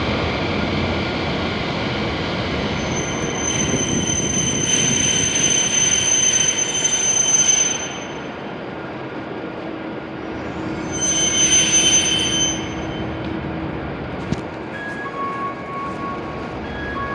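E7 series Hokuriku Shinkansen train pulling into platform 11 at Kanazawa station at night, a loud steady rolling rumble with two surges of high wheel squeal, then quieter braking to a stop.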